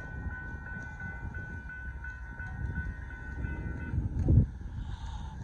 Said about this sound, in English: a northbound Union Pacific auto intermodal train with a brand new CNG available